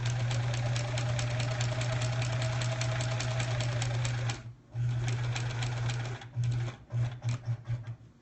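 A home sewing machine stitches a quilt block in steady rapid bursts, running continuously for several seconds, pausing briefly, then stitching again in short stop-start runs near the end, close and fairly loud with no talking.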